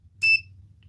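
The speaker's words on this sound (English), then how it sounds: "This may or may not beep. Let's see. It beeps for half a second." A single short, high-pitched continuity beep from a multimeter lasting a fraction of a second, with a low hum underneath.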